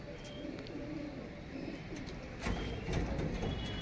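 Two old-breed male pigeons kept for sale coo softly in a low, quiet murmur against a hushed background, with a brief louder stir near the end.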